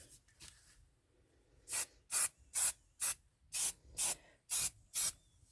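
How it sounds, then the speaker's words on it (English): Eight short, loud bursts of hairspray from an aerosol can, sprayed onto a thrift store craft piece, coming in an uneven rhythm after a quiet start, with no talking. "I am going to spray some hairspray."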